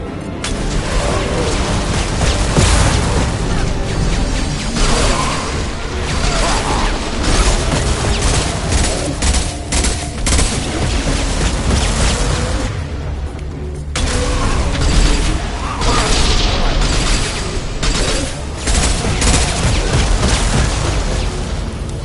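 A firefight in the Mass Effect Legendary video game: repeated booming shots and blasts with mechanical clatter, dense and loud throughout, a brief lull midway before the barrage resumes.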